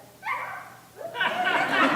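A storyteller imitates a dog in a short two-part call, a brief yelp and then a longer, breathy woof-like sound, delivered close and fairly softly.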